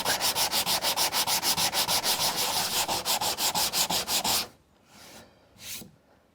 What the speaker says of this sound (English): you can sand the edge to make it perfect